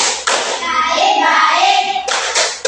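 A group of children clapping in a rhythmic clap-along ice-breaker, short bursts of hand claps at the start and end framing a stretch of chanted voices in the middle.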